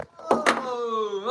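A door is checked and pulled open: two close knocking thuds followed by a sustained creaking, ringing tone as it swings, with no talking.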